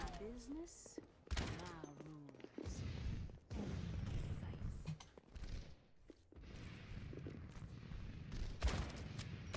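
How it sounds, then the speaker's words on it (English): Ashe's rifle shots in Overwatch, fired at a Pharah, come as scattered, mid-loud gunfire and impacts amid busy game noise, with talk over parts of the match. "If I go Ash and I shoot at the Pharah"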